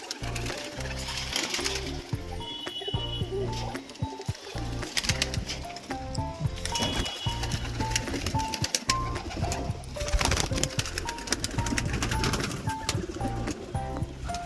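Cooing pigeons crowd into their loft one after another, their overlapping throaty calls continuous and close, with a brief louder flurry partway through.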